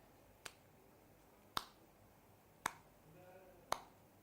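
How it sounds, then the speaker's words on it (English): A single person claps his hands four times at an even, slow pace, each clap sharp, close and isolated against quiet room tone. "Every time I clap my hands, a whole acre of trees is being cut down."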